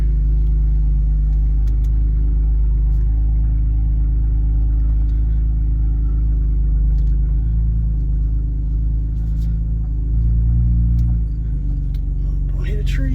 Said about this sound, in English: Let's see how far I can drive in reverse before I lose my camera setup here.